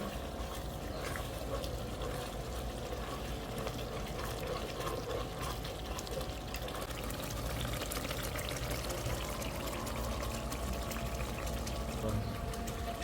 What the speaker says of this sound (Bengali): এখন আমি ঢেলে দেব। এখন আমি নাড়াচাড়া করতে থাকবো।